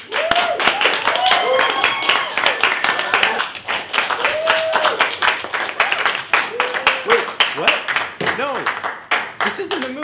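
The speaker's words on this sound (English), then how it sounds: "Clap it up, my good people." An audience claps throughout, loud and continuous, while someone talks excitedly over the applause.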